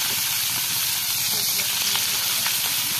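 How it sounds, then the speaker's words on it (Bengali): Fresh koi fish sizzling in hot oil in a pan, a steady close crackling hiss with scattered pops throughout. "আমাদের কঠিন মাছ ভাজতে আছি"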